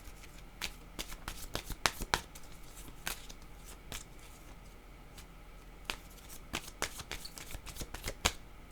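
A deck of cards riffled and handled at close range, giving sharp irregular snapping bursts with quiet gaps between them, fairly faint overall and with no talking.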